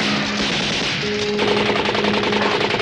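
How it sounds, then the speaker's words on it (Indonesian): Dense night firefight, with rapid continuous bursts of automatic gunfire crackling loud and close over a steady noisy background, a sustained rattle throughout with no talk. "menjadi bising karena desingan peluru"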